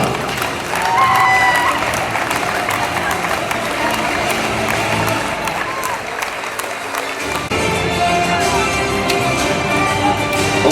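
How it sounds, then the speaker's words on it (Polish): Crowd applause with some cheering and scattered taps at a youth girls' sports tournament in a gym, loud and busy, dipping briefly midway before picking up again. "Również wielkie brawa dla sponsora!"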